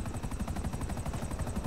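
Steady rhythmic rotor chop of a helicopter in GTA Online, a fast, even thumping pulse held without a break and heard close and alone.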